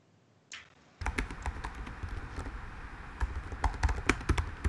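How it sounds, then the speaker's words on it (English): Rapid, irregular keystrokes on a computer keyboard, close and fairly loud, clattering steadily for several seconds with uneven bursts and no voices over them. "Sorry, reading what Eric's typing"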